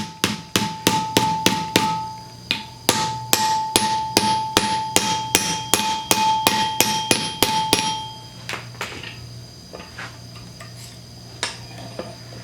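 A hammer taps a metal tag mount part for a Honda CL360 right at its base in a steady run of sharp ringing metallic strikes, close and loud, then a few scattered lighter knocks.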